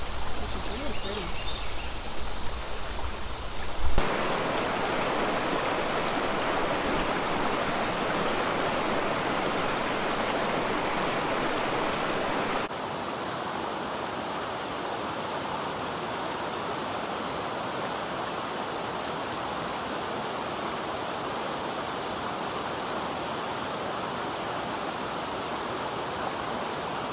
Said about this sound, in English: This trail runs right along Difficult Run Creek, which is really pretty.